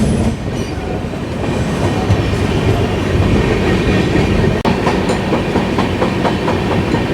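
The 18190 Ernakulam–Tatanagar Express runs through Kerala near the Walayar ghat. A loud, continuous rumble of wheels on rails is dense with clattering and faint squeals, and no one speaks.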